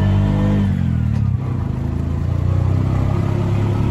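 Small tuk tuk engine laboring up a steep hill in Ella, Sri Lanka, a close, loud, steady mid-pitched drone with a throbbing pulse and a slight dip partway through as it strains under load.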